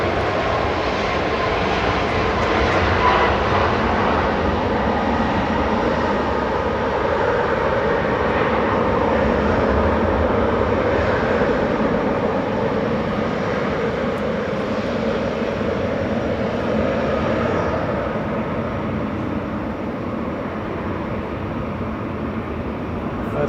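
An airliner on its take-off roll at Manchester Airport, bound for Katowice, gives a loud, sustained engine roar that holds steady and eases slightly toward the end, with no talk.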